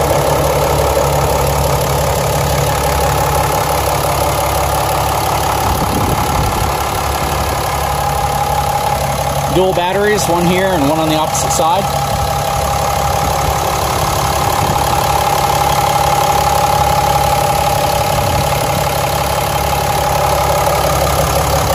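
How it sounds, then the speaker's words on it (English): A Cummins diesel engine in a 2018 RAM 4x4 dually pickup idles steadily up close with a low, even rumble, while someone talks over it for a few seconds near the middle. "close-up of the engine compartment of this truck with this beautiful sounding Cummins running"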